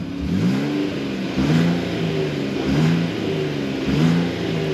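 A 2022 Nissan Frontier Pro-4X's 3.8-liter V6 revs up four times in a steady rhythm, each rise swelling and dropping back to idle, heard close and alone.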